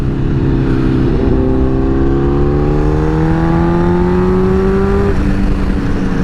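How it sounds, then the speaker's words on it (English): A liter bike motorcycle's engine pitch drops in steps as it downshifts, then revs climb steadily under loud, constant wind roar close to the rider. "Oh, those downshifts are so nice."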